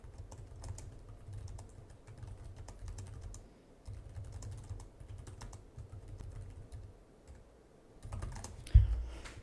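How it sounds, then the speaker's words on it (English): Typing on the keyboard of a 2024 LG Gram 17 laptop, a steady run of soft, close keystrokes with small keycaps pressed firmly, ending in one louder thump. "If you want to type a little bit more aggressively, you can see there that it actually does go down quite a bit."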